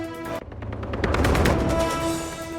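Celebration fireworks after a cricket team's win crackle and pop in rapid, dense bursts, a continuous volley of bangs rising in intensity, with no talk.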